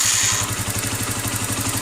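A motorcycle engine with a Nibbi 28mm carburetor idling high during tuning, a steady, close, rapid-pulsing putter with mechanical clatter and no voices.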